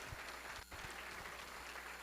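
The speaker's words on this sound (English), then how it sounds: "let's give a round of applause for all of our students this evening" Audience at a school district board meeting applauding its students, with dense clapping that holds steady throughout and one brief dip.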